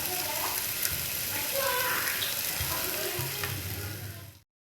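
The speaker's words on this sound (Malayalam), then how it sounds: "നല്ലവണ്ണം ഇളക്കി കൊടുക്കുക അരിഞ്ഞു വെച്ച തക്കാളിയും കൂടി ചേർത്ത് കൊടുക്കുക അല്പം ടൊമാറ്റോ സോസും കൂടെ ചേർത്ത് കൊടുക്കുക" Tomatoes and tomato sauce are stirred into a frying masala for macaroni, making a close, bubbling sizzle with spatula scrapes. It stays strong and steady, then cuts off abruptly near the end.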